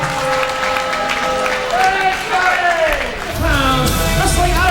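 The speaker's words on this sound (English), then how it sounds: "You can applaud now because Team Big League's coming your way" Wrestling crowd at an indoor independent show cheering and applauding continuously, a loud dense wash of clapping and shouts with announcer-style talk and music-like tones over it.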